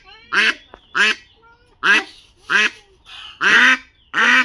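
A duck, bought at the market and about to be slaughtered, quacks loudly and close up in seven evenly spaced, harsh calls, each lasting around a third of a second.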